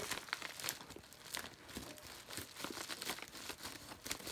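Securely wrapped packaging on a Pixie's Marseille Tarot deck crinkles and tears as it is pulled open, a steady close-up crackle of plastic and paper lasting several seconds with no talking.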